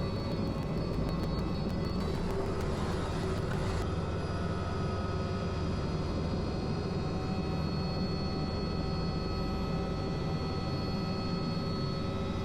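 Helicopter flying over jungle-covered mountains on a medical team transport flight, a loud, steady rotor and engine drone with a constant whine running unbroken throughout, no voices.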